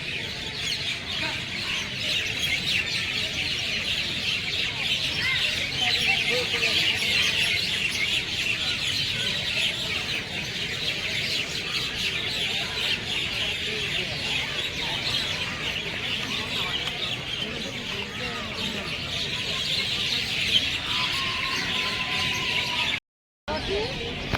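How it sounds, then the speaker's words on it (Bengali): Many birds sing and chirp together near a temple, a dense, continuous chorus of bright tweets with a few clucking calls mixed in, steady and fairly close throughout. "আওয়াজ যা সুন্দর পাখিদের, না?"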